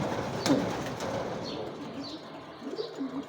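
White pigeons kept in Saudi Arabia coo softly in low, rolling calls, with a brief burst of wing flapping near the start and a few more coos toward the end.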